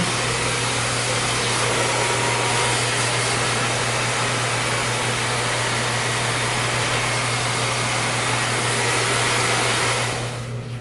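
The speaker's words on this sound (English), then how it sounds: "I like to do a cold shot on the blow dryer." A blow dryer on its cold shot roars steadily and close at full power while a haircut is being finished, a dense continuous whoosh that begins to cut off right at the end.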